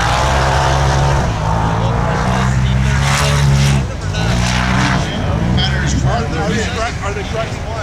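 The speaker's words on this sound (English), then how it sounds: "the Red Bull car coming in real strong" The Red Bull race car charges around a snow track at the 2022 Red Bull Snow Scramble at Twisted Trails in Michigan, its engine roaring loudly and revving up and down while a commentator talks over it.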